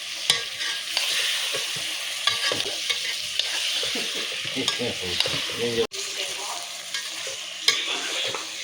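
Mutton curry with turmeric stirred and fried in a pan, a steady sizzle running throughout with repeated scraping strokes of the spoon, close and fairly loud, with no talking.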